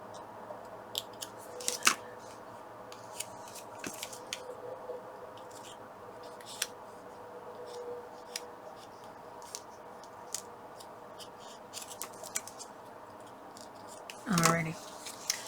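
Scissors trimming fabric or paper scraps for a scrap project, heard as scattered quiet snips and clicks spread across a soft, steady background, with a few louder handling sounds.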